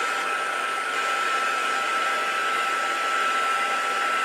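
Hair dryer blowing on stone paste artwork, giving a loud, steady whooshing whine that holds constant throughout with no other sounds.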